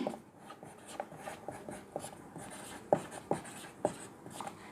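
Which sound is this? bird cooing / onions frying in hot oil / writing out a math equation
writing out a math equation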